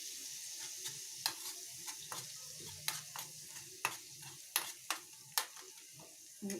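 Crushed garlic paste frying in a tempering of oil for bitter gourd pickle: a low, quiet sizzle punctuated by repeated sharp clicks of a spoon against the pan, close by and without speech.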